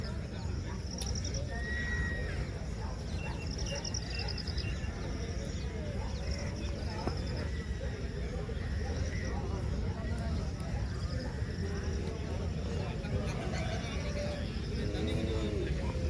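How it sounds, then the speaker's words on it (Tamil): Horse-drawn carts at Anthiyur market near the Gurunathar temple in Erode district, with horses neighing and hooves clip-clopping amid crowd murmur, birds and distant people talking. "இதெல்லாம் குதிரை வண்டி"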